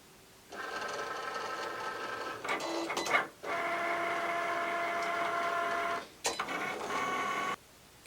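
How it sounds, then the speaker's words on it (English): A Cricut Explore Air 2 cutting machine at work, giving off a steady whirring motor drone in long runs, broken by brief pauses and quick clicking carriage shifts, close and fairly quiet. "Then we just press the C button to cut, and our Explore Air 2 starts doing the work for us."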